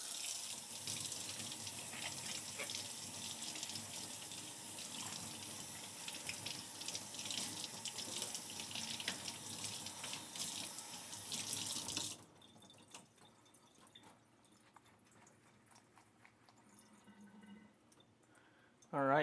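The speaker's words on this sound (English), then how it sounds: "I'm going to just give it a quick rinse" Green onions rinsed under a running kitchen tap, a loud steady gush of water splashing into the sink for about twelve seconds before the flow stops, leaving quiet drips and faint handling noises.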